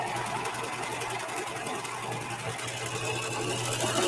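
A serger runs continuously and evenly, stitching a rolled hem on fabric in a dense, steady mechanical whir up close with no pauses.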